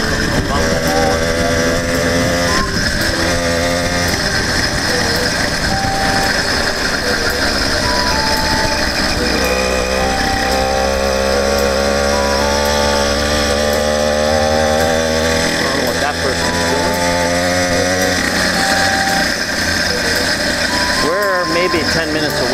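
A 100cc iron-sleeve motorized bicycle engine drones loud and close throughout a ride, its buzzing pitch rising and falling with throttle, mixed with heavy wind rush and a rider talking over it.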